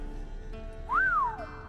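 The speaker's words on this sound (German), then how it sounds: "Das Pfeifgeräusch mit der Mundanimation." A character whistles in The Witcher 3 on PC, a single clear rising-then-falling whistle about half a second long over a quiet game ambience.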